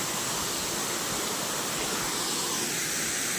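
Water falling near a cave at a Shiva temple in a forest, a dense, unbroken rushing roar that stays loud and steady throughout, with no voices over it.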